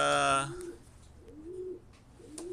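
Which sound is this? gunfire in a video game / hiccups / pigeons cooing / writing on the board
pigeons cooing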